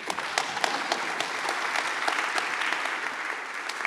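Audience applause at a EuroPython 2024 lightning talk session, a steady moderately loud wash of clapping that carries evenly from start to finish with scattered sharper individual claps.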